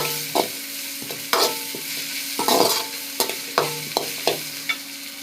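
Potatoes, green chillies and onions sauté in a pan, with a soft steady sizzle broken by a series of sharp scraping stirs of a spatula at irregular intervals, close and clear with no talk.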